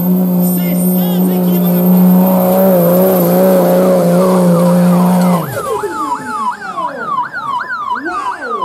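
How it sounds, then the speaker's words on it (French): A pickup truck engine roars during a truck pull, a loud steady drone that suddenly breaks into rapid, repeated rising and falling revs. "Là, le moteur est embarqué."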